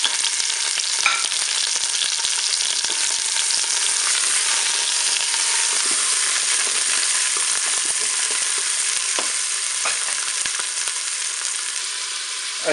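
Shallots sizzle in the browning function of a Cookeo pot next to a pork roast, a loud, continuous crackling fry with scattered small pops and occasional stirring scrapes, with no talk over it.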